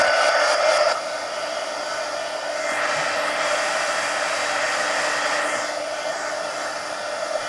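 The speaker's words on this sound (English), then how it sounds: "let me hit this with the heat gun real quick" A heat gun blows steadily, drying paint on a faux leather journal. Its constant loud whooshing airflow shifts slightly in tone as it moves, with no talking.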